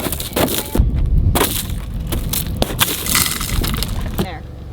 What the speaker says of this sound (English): Just a little bit of broken glass.